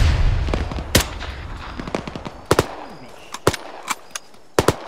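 Heavy gunfire from a large emplacement weapon in a military shooter game, sharp cracks and booms scattered irregularly, some near and loud, others farther off, over a low rumble of battlefield ambience.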